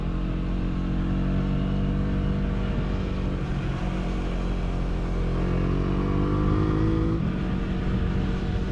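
A Husqvarna Svartpilen 401 motorcycle's small single-cylinder engine drones loudly and steadily while riding, its pitch rising and falling with the revs against constant wind rush, with no talking.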